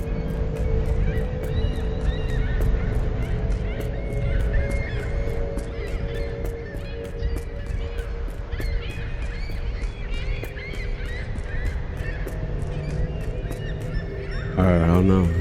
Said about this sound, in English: The birds are mourning again.